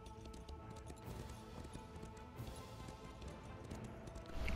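Horse hooves clip-clop in a steady run inside The Elder Scrolls Online, faint and continuous with a low rumbling bed beneath, quiet overall.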